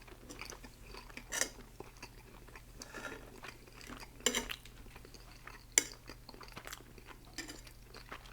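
Metal utensils clink and scrape against a dish while someone eats lasagna, with soft chewing between scattered sharp clicks that peak in a few louder strikes over a quiet, steady room hum.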